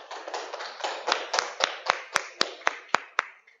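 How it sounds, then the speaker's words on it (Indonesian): A short run of brisk, evenly spaced hand claps, about a dozen sharp beats, rings out in applause for a student group after its presentation. "Tepuk tangan buat kelompok 2."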